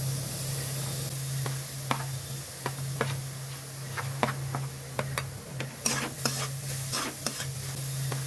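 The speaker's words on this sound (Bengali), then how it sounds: "ভালো করে মিশিয়ে নেব।" Grated carrot and beetroot are stirred into a vegetable mixture in a pan, with irregular spoon scrapes and clicks over a soft sizzle and a steady low hum.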